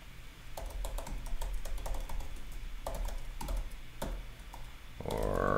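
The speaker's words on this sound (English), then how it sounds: "I'll just type in my email" Email address typed on a computer keyboard: a fast, uneven run of crisp key clicks, close and fairly loud, over a steady background hum, with no talking.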